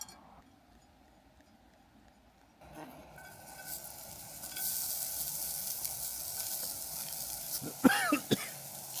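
Bulgogi beef sizzling and frying in a pan at an outdoor camp cook among old ruins, a quiet start swelling into steady sizzle with a few clinks of utensils near the end.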